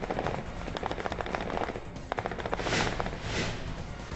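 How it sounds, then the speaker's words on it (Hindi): Rapid bursts of gunfire from cross-border firing in Poonch's Mendhar and Balakot sectors crackle in quick rattling volleys, fairly faint and distant, with no voices. "पुंछ के मेंढर और बालाकोट में पाक की ओर से फायरिंग"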